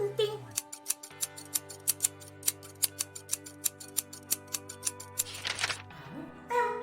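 Scissors snip paper cut from a magazine in a rapid, steady run of crisp, close cuts, with a faint sustained tone beneath and light rustling toward the end.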